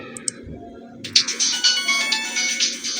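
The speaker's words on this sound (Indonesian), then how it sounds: "Ada telepon masuk" A phone rings with an incoming call inside a family home, its bright electronic ringtone starting partway through and continuing steadily and fairly loud after a few faint earlier tones.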